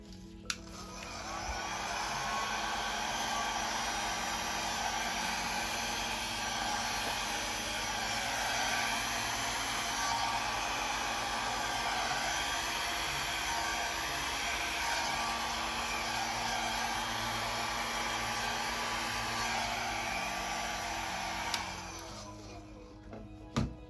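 A hair dryer blows across a Dutch acrylic paint pour on a four-panel canvas, running as one steady loud whir for about twenty seconds, then clicking off near the end.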